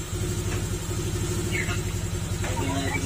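A Honda Click150 scooter engine, bored up to 62 mm with a stage 1 camshaft and a 32 mm throttle body, runs close by with a steady, pulsing low drone. Brief voices come through faintly in the background.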